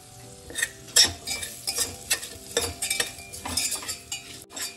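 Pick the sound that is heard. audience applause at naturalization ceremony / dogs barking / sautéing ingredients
sautéing ingredients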